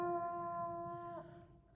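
A small puppy in the woods gives a single thin, tonal howl that wavers and breaks into a soft whine, close and fairly quiet, with no talking.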